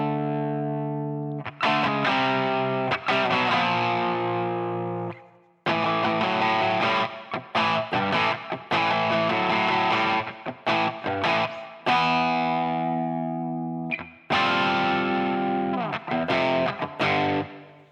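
A distorted electric guitar plays a riff: loud, close bursts of choppy chords and bends in repeated phrases, separated by brief pauses, with no talking.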